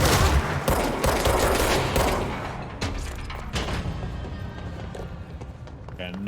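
Rapid gunshots from the video game Control crackle in a dense fusillade, loud at first and gradually thinning, with scattered sharp reports throughout.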